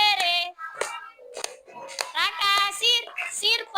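A group of children at school sing a regional song in chorus while clapping their hands along, sharp claps punctuating the bright, steady singing voices.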